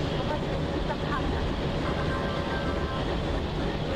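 A WDM3A diesel locomotive brakes in the Open Rails train simulator as a dense, continuous rumble with a faint metallic whine rising briefly partway through.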